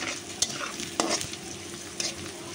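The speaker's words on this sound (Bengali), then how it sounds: "পেঁয়াজটা দিয়ে আবার আলুটা ভাইজে নিতেছি" Potatoes and onion frying in a pan make a constant close sizzle, with a few sharp clicks of a spatula stirring them against the metal.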